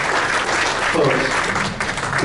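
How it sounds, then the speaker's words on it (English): Applause for alumni past presidents at an alumni association dinner dance fills the room with steady clapping, while a voice talks briefly over it. "There's a round of applause for all the alumni"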